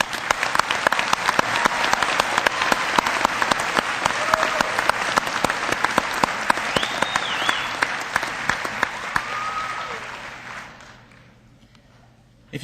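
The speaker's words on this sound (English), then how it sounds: "Would you give our graduates another round of applause" An audience at a nursing pinning ceremony claps for the graduates in sustained, dense applause with a couple of brief whistles, loud and close, fading out near the end.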